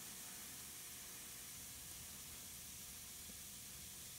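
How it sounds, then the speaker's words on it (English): Vigorous fizzing and bubbling as acetic acid is added in a school reaction lab, a steady faint hiss with no talking. "there's a vigorous bubbling and fizzing"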